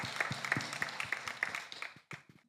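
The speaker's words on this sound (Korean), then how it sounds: "우리 주님께 영광의 박수 한번 올려드리겠습니다." Church congregation clapping together at a Wednesday evening worship service, a short run of steady rhythmic claps that fades out within a couple of seconds.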